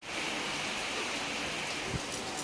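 Steady rain hisses evenly and continuously, a soft, dense wash of drops with no voices over it.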